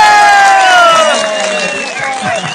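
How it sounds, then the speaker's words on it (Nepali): An audience at a gathering cheers and shouts to welcome a guest: a loud, close burst of overlapping voices and whoops, with rising and falling calls that fade slightly toward the end. "उहाँलाई जोरदार तालीले स्वागत गर्नु"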